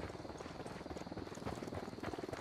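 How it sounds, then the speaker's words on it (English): A helicopter passes at moderate distance in a remote Bolivian setting, its rotor thudding faintly and steadily with a slight rhythmic pulse, no speech over it. "Chopper coming at us or going away?"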